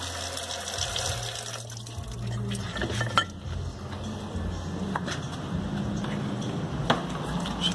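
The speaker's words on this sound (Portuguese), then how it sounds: "Tirar um pouco aqui de água para o brilho pegar melhor." Water splashes and trickles over a Weber 459 carburetor from a Voyage during final polishing, a steady wet wash with occasional metallic knocks and clinks, close and continuous without talk.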